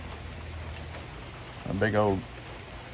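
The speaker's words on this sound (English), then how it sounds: "big old shower just came through a few minutes ago, but it's still raining a little bit" Rain falling steadily outdoors near a garage after a heavy shower, a soft continuous hiss of drops throughout with a brief voice rising over it.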